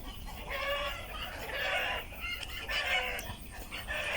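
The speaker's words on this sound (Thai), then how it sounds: "มีไก่ลายนะ" Chickens near a banana garden in Vang Vieng, Laos, cluck and crow in repeated nearby bursts over a quiet rural background.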